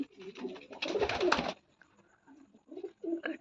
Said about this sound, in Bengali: মোটামুটি সবগুলো বিভিন্ন প্রজাতির কবুতর আছে।